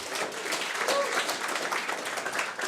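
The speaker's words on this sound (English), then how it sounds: "Can we have a round of applause for all the speakers?" An audience at a B2B SaaS marketing event gives the speakers a round of applause: steady, dense clapping throughout, with a few voices faintly mixed in.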